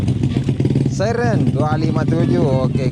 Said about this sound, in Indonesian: Saya menggunakan motor ini guys, bermesin Vega.